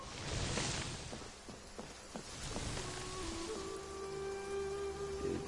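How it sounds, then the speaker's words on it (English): Steady rain falls in the Genshin Impact game world, a continuous broadband hiss with scattered soft drop taps, while a sustained tonal music line enters partway through. "It's raining."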